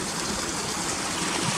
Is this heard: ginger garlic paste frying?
no